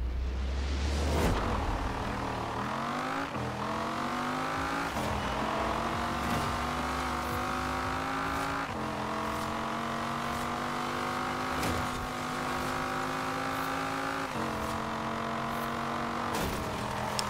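A racing car engine in the video game Forza Horizon roars loud and close, climbing in pitch through repeated revs with sharp drops at each gear shift, sustained with no talking.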